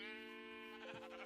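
A sheep in the video game Minecraft gives a single wavering, nasal bleat, clear and close, with no talk.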